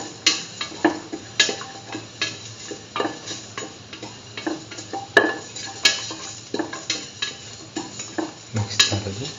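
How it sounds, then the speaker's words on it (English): Garlic and salt stirred in a pan for a curried egg and mung bean stew, with steady scraping strokes of a utensil, occasional sharp clicks against the metal and a faint sizzle underneath, close and fairly loud. "thoroughly salt and mix."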